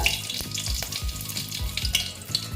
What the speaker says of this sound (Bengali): দেখো তেলটা মোটামুটি গরম হয়ে গেছে তারপরে আমি দিয়ে দিচ্ছি দেখো দুটো শুকনো লঙ্কা তারপরে দিচ্ছি তেজপাতা